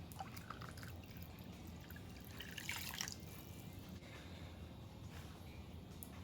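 A cup of warm water pours and trickles steadily into flour and olive oil for tortilla dough for several seconds, with a brief louder splash midway, close and fairly quiet.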